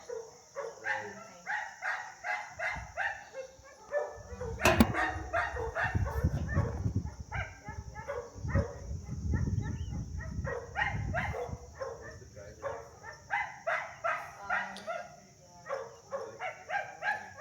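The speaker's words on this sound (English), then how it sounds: "the dog just barks non-stop when you're not here" A dog barks non-stop in quick, evenly spaced bursts that continue throughout at moderate, somewhat distant loudness.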